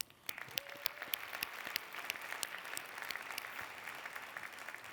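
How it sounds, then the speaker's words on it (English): Distant, faint applause from an audience, a soft steady patter with a few sharper individual claps standing out. "please join me in giving a massive round of applause to Jessica Starnes, Michael Aquagro, and Kir"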